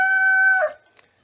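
A rooster crowing on a homestead, one loud, close, sustained cock-a-doodle-doo cry that breaks off sharply, followed by a faint distant cluck.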